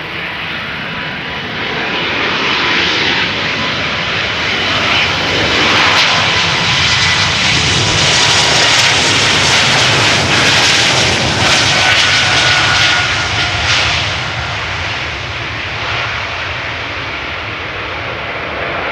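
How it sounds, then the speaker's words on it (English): A KLM Embraer 195 E2 bound for London Heathrow departs Amsterdam Schiphol, its jet engines a loud, broad, sustained roar that builds gradually and then eases slightly, with no voices over it. "First up, E2 Embraer 195 to London Heathrow."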